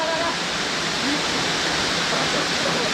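A hidden waterfall heard up close as a steady, loud wash of rushing water, a dense unbroken roar filling the whole moment.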